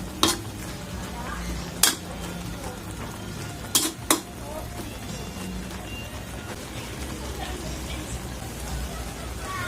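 Laing, taro leaves with their stalks, being stirred in a pan with a spoon, giving a soft continuous scraping and bubbling over low kitchen rumble, broken by a few sharp clinks of utensil against the pan.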